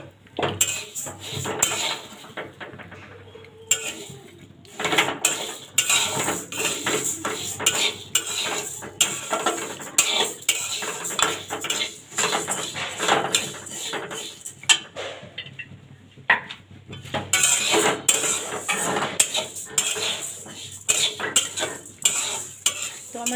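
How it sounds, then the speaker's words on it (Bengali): Moong dal being dry-roasted in a kadai on a stove: a spoon scrapes and stirs the dry lentils in rapid, rattling, uneven bursts with brief pauses, close and fairly loud, with no talk. "তো প্রথমেই মুগ ডালটি আমি হালকা ভেজে নিব।"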